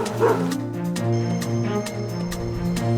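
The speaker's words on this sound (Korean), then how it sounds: "실제 개 짖는 소리가 메아리처럼 마을 전체에 퍼져" A dog barks repeatedly in the rural village of Geumgok-ri, the calls carrying across the hillside with a steady, reverberant tail that fills the gaps between barks.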